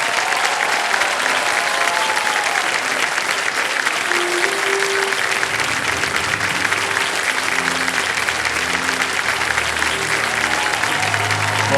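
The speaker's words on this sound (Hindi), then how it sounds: "मैं चाहता हूं कि तालियों के साथ उनका अभिनंदन किया जाए" A studio audience on a TV quiz show applauds loudly and continuously, dense clapping filling the whole stretch with a faint murmur of crowd beneath and a soft musical bed.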